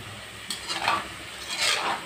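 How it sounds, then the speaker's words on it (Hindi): Dry fruit samosas sizzle in hot oil as they are turned one by one, a steady frying hiss with soft stirring scrapes rising in two brief swells. "तेल पूरे गर्म हो चुके हैं, मैंने इसे एक एक करके आप समोसे को डालें और धीरे धीरे पलटें।"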